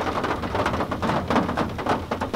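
Heavy rain pouring down during a flooding thunderstorm, a dense close roar of rainfall with continuous splashing and low rumbling underneath.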